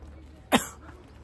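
A man with a pollen allergy lets out a single short, sharp cough close by, with a faint throaty tail, during an outdoor walk amid quiet background.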